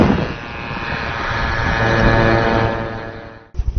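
Iranian-made Yasir and Ababil drones flying during a naval exercise on the Caspian Sea, a steady droning engine whine building and fading before cutting off abruptly.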